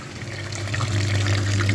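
Steady rush of water flowing through a Daewoo Lanos front radiator during a machine flush of the cooling system, under a constant low pump hum, continuous and close, with no voices.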